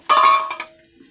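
Chopped onions hitting hot oil in a cooking pot, with a sudden loud sizzle that quickly fades into a quieter fry alongside a couple of light clinks, heard close up.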